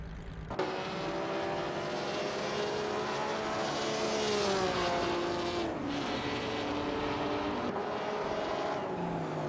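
Engines of 1950s sports cars racing in a video game roar continuously and loudly, pitch rising and falling through gear changes as cars battle for position, with brief tire squeal and no talking.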